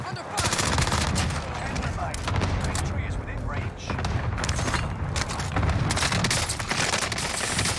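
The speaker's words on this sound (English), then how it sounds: "why am I shooting two people at once?" Rapid automatic gunfire in the Warzone video game, with dense bursts of shots and heavy thumps crowding the whole stretch at close range, continuous and loud, while someone talks over it.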